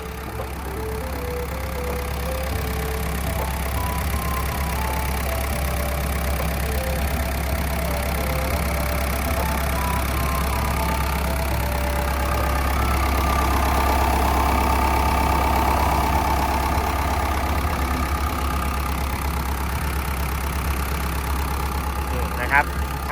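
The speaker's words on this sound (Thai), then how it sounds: "เสียงเครื่องเนี่ยก็ทำงานได้แน่นนิ่มดีปกติเลย" A Komatsu PC78US-6 7.5-ton excavator's diesel engine idles steadily and close by with a low, even rumble, while a person talks over it for much of the time.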